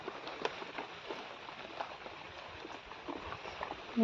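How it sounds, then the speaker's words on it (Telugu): Steady rain falls on a vegetable farm during a days-long drizzle, a soft continuous patter with scattered droplet ticks, fairly faint and even throughout with no talk. "ఇవాళ అయితే వాన వెలిచేటట్లేదు"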